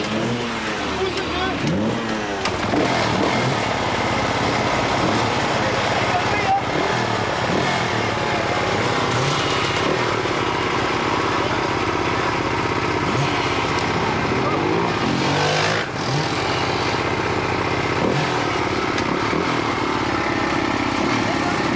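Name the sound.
motorcycle engine starting and revving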